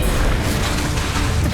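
A Descendo spell cast in Hogwarts Legacy gives a loud, dense magical rush that stays steady and broad for about a second and a half, with no pause.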